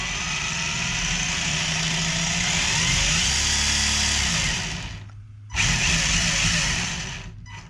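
A Tamiya Wild One RC car with a Blockhead motor and an 18-tooth pinion, tires not glued on, runs with a steady whirring electric motor drone that swells, then cuts out briefly and starts again.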